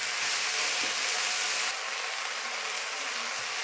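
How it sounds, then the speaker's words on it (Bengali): Saag greens frying in a pan with onion and garlic, a steady loud broadband sizzle and hiss filling the whole stretch with no talk. "এখন আমার ভাজা হয়ে গেছে পেঁয়াজ রসুন, আমি এখন শাক ছাড়ছি"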